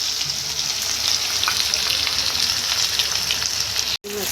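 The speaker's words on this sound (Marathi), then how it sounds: "मस्त असं कांदा आणि मिरची थोडं फ्राय करू आपण तेलावर." Onion and green chilli fry in hot oil with mustard seeds, cumin and curry leaves, making a steady loud crackling sizzle, alone and continuous, cut by a brief dropout near the end.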